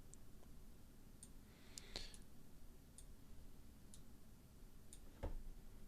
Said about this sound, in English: So I'm just left clicking and just getting rid of parts.